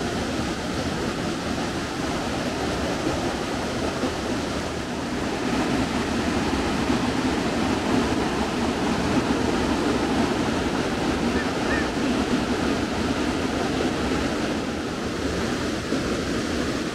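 Swollen river rushing past a small campsite after rain, a continuous broad roar of water that stays steady and full, slightly louder in the second half, with no voices.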